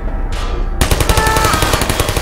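Automated turrets in the video game Portal fire rapid bursts of gunfire, a loud, steady stream of rattling shots that runs without pause after a brief whoosh.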